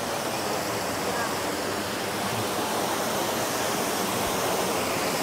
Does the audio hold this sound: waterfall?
yes